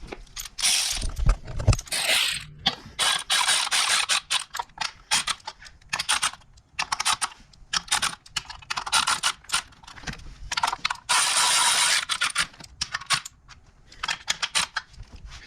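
A torque wrench clicks in rapid, irregular bursts while bolts are tightened on a 3.6 Pentastar engine during an oil cooler job, with sharp close mechanical snaps and brief pauses between runs.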